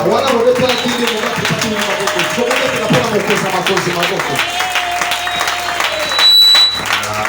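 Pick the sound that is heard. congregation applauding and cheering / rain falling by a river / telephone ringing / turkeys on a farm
congregation applauding and cheering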